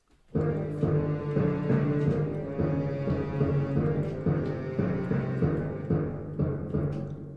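Slow, sustained piano chords play continuously at a moderate, full volume, with deep bass notes ringing under each change; no voices.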